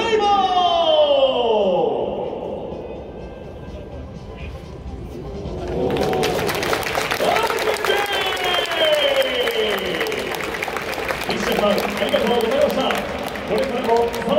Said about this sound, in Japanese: 西矢さんに今一度大きな拍手を。